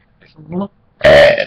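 A person lets out a short burp, then a louder, longer, voiced one straight after, both close up.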